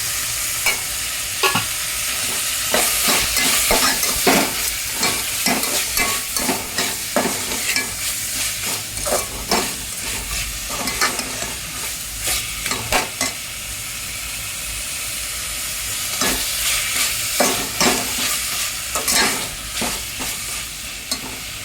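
Prawns with turmeric and salt fry in a pan for biryani, giving a steady sizzling hiss with repeated scraping and stirring strokes of a spoon against the pan throughout.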